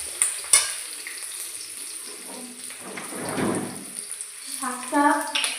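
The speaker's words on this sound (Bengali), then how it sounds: "এই রসুন দিয়ে দিলাম, দিয়ে একটু ভেজে নেবো রসুনটা, আর কালি জিরে আর হচ্ছে কাঁচা লঙ্কাটা একটু ভেজে নেবো" Garlic, nigella seeds and green chillies fry in a pan with a bright crackling sizzle, rising to a louder burst midway, close by, with a voice speaking at moments.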